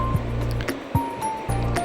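Batter soaked for over half an hour is whisked until smooth, with rhythmic squelchy strokes repeating about twice a second, close and fairly loud, with no talking.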